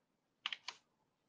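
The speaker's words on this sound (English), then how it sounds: "while Carsten is typing" A brief burst of computer keyboard typing, three or four quick faint keystrokes clustered together in an otherwise quiet room.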